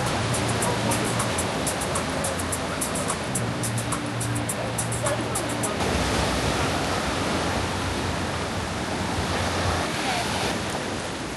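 Strong ocean waves crash and wash continuously along the rocky shore of Bali, a loud, broad roar of surf with wind noise buffeting the microphone.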